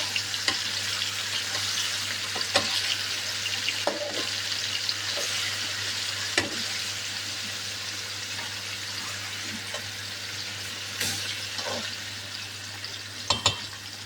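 Food frying slowly in a pan on a low flame, a steady soft sizzle with scattered pops and light clicks of a utensil stirring, close and continuous, no talking.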